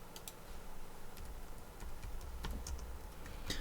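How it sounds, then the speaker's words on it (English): Keyboard typing on a computer, a quick run of light, irregular key clicks with a few sharper taps near the end, heard alone over a low steady room hum. "So if I type making friends into Google"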